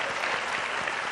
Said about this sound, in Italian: Gli facciamo sentire l'applauso